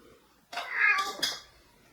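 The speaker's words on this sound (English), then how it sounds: "Cats crying, I can't do anything about them" A house cat cries out in a drawn-out, close meow that rises and breaks into a second short yowl, standing alone over a quiet room.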